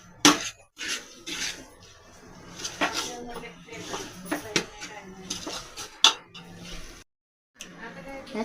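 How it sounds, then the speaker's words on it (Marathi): Cooked vegetables being mashed for pav bhaji in a pan, with repeated clanks and scrapes of a metal masher against the pan in an uneven rhythm, plus a brief pause near the end. "या सगळ्या भाज्या मी कुकरमध्ये शिजवून घेतलेल्या आहेत आणि त्याला मी आता मॅश करून घेते."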